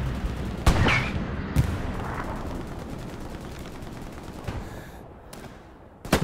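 Gunfire in Hell Let Loose, several sharp loud shots spaced irregularly across a few seconds over a dense battlefield rumble, one close burst near the start and another at the very end.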